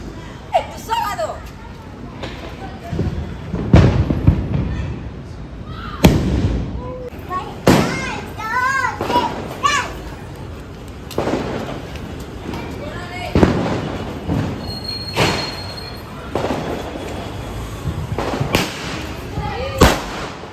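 Diwali firecrackers burst repeatedly in loud, sharp cracks and pops, some close and some distant, with sizzling fuses and whistling rockets between them while people talk and chatter in the background throughout.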